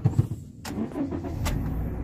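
A 2015 Honda Mobilio's engine is started from inside the car, a short starter crank followed by a low, steady idle rumble close by, with no one talking.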